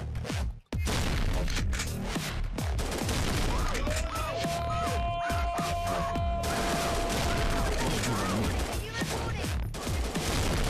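Repeated gunfire bursts from a video game where Shrek wields a shotgun, steady loud shots close up across the clip after a brief silence, with a tonal whine in the middle and players talking over it.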